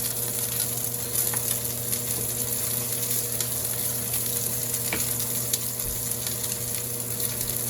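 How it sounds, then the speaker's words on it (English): Meat sears in a hot pan seasoned with salt, garlic, rosemary and pepper, giving a loud, constant close-up sizzle and crackle with a faint steady hum beneath and no talk. "I think that's a nice sear"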